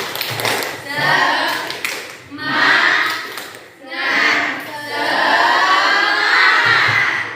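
A class of children performs a rhythmic spirit clap, chanting loudly in bursts and clapping in patterned sequences, with shouting and cheering between the phrases.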